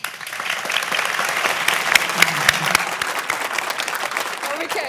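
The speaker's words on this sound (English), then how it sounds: "Clap your hands if you agree with that." Audience at a public debate on water scarcity clapping loudly, a dense, continuous round of applause with crowd noise that holds steady for several seconds close to the listener.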